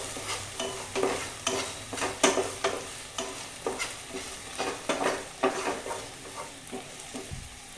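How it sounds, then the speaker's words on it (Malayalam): Okra thoran, freshly salted, being stirred in a pan: repeated scraping strokes of a spoon or spatula, fairly quick and irregular, over a soft sizzle, close and moderately quiet, with no talking. "എന്നിട്ട് നല്ലപോലെ ഒന്ന് മിക്സ് ചെയ്ത് കൊടുക്കുക."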